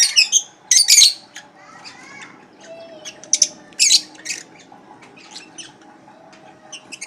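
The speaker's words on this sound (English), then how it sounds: "this bird is called lovebird" Pair of lovebirds giving sharp, shrill squawks and chirps in irregular bursts, loud and close, with quieter gaps and faint background noise between calls.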